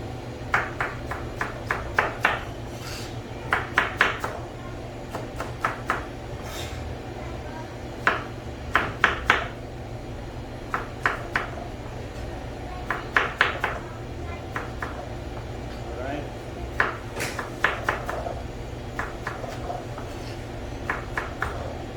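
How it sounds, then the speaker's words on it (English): A knife chops tomatoes on a cutting board in rhythmic clusters of quick taps, repeated in short bursts over a steady low background hum, close and moderately loud. "We're gonna cut tomatoes."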